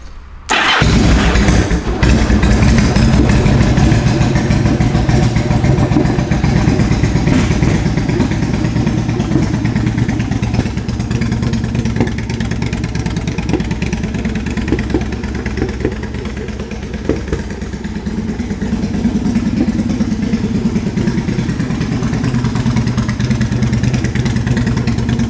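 A 2007 Yamaha V-Star 1100 motorcycle with 42,772 miles fires up and settles into a loud, close, lumpy V-twin idle that continues steadily, with a few mild revs, for the whole stretch.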